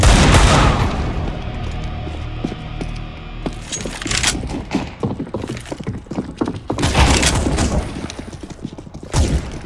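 In a CS:GO match, a loud grenade blast opens the moment. It is followed by scattered rapid gunshots, thuds and metallic clinks that rise again in bursts toward the end.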